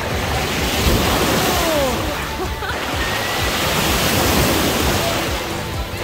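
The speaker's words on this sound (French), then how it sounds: "Ah, les vagues!" Violent sea waves crash and surge continuously on a Costa Brava beach, a loud roaring wash with wind buffeting the microphone.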